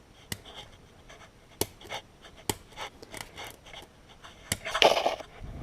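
A pen tip scraped over the cleaned-up transfer port of a Suzuki LT250R engine, giving faint scratchy rasps broken by a few sharp clicks and one louder scraping burst near the end, close up with no talking.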